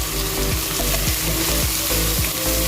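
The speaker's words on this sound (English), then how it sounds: "let our masalas get roasted very well" Masala spices with salt roasting in a hot pan for chicken biryani, a loud steady sizzle with repeated scraping stirs at a regular rhythm, close and without talk.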